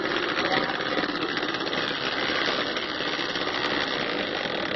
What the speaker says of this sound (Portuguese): Então, eu vou bater. Eu gosto mais de trabalhar com a batedeira solta.